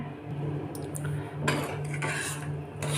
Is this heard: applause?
no